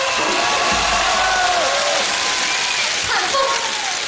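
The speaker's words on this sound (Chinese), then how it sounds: "掌声鼓励" Broad, hissing applause and crowd cheering after Wang Xiaoli's 凤还巢 performance at a northeastern Chinese comedy show, sustained throughout with a voice carrying over the top.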